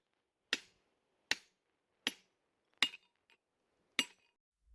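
A sledgehammer strikes cracked rock boulders five times at an even pace, each blow a sharp, ringing clink that dies away quickly in otherwise quiet surroundings.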